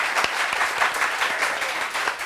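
A brief burst of studio audience applause for a contestant on a TV set, with crisp individual claps audible in a short, moderately quiet patter.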